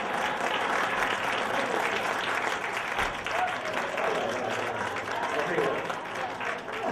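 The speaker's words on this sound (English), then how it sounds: "Give him a big round of applause." An audience at a Las Vegas show claps loudly and steadily for about seven seconds, a dense, continuous wash of applause.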